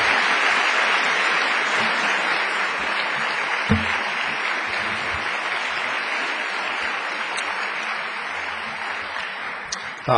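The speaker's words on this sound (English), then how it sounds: "could you give him a big round of applause" An audience at a high school veterans ceremony gives sustained applause, a broad even wash of clapping lasting about ten seconds at moderate volume, with a brief knock midway.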